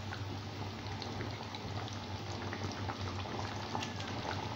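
Tamarind gravy with ivy gourd bubbles on the stove, a steady low simmer of soft pops and gurgles with a faint hum beneath, fairly quiet and continuous with no talking.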